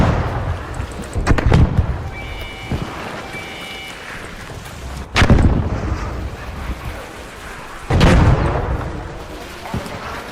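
Gunfire in the shooter game Arc Raiders: three heavy booming shots spaced a few seconds apart, loud and close, with scattered smaller cracks and faint tones between them and some talk.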